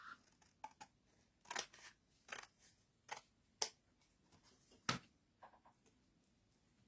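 Scissors snip through a page cut from an old road atlas, about eight crisp, separate cuts in an irregular rhythm, close and fairly quiet, with no talking.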